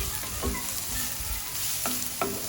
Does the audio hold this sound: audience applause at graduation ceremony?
no